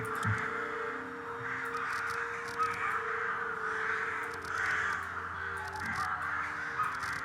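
Crows caw in the Skyrim game world, several harsh calls scattered over a steady ambient wind-like background, fairly faint and distant with no talking.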